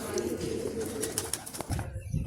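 A pigeon coos softly in a loft where pigeons are fed almonds, a faint low call repeated under light background noise and a few clicks.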